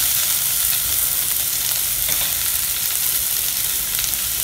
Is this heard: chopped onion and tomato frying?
yes